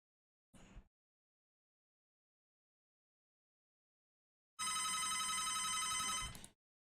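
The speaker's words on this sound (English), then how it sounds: "That is a phone call." A telephone rings once in a burst of about two seconds after a brief knock-like sound and silence, a bright electronic trill heard alone and fairly close.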